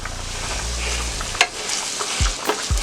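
Minced garlic and onions fry in a pan, a steady sizzle broken by a few sharp scraping stirs and utensil knocks, close and moderately loud with no talk.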